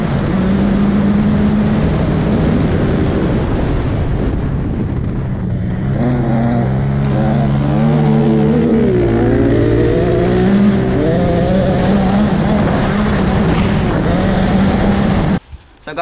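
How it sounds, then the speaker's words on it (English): KTM 85 motocross bike engine running loud and close, its revs rising and falling through the middle before cutting off abruptly near the end, with faint talk underneath. "I'm gonna start the bike up and take it round to where the boys are getting kitted up"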